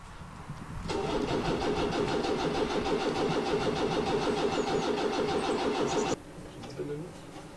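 A Ford V8 Pilot's flathead V8, left unused for weeks, cranks loudly and close by for about five seconds in a steady rhythmic churn, then cuts off without settling into a running idle.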